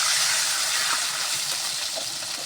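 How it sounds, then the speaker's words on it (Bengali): Water is poured into a hot pan of frying onions, oil and spices, giving a loud, bright hiss and gushing sizzle that eases slightly as it goes on. "কষার জন্য পানি দেওয়া হলো"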